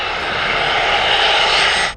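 Private jet engine roaring loudly and steadily at close range, a dense continuous rush that cuts off abruptly at the end.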